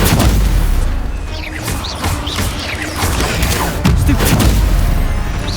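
Repeated Stupefy spell blasts in Hogwarts Legacy combat, loud booming impacts and crackling bursts in dense succession amid other battle noise.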